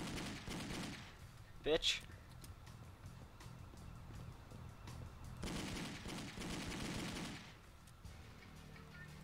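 Gunfire in the Driv3r video game, a short burst of sharp shots rising above steady game background noise, while someone speaks briefly.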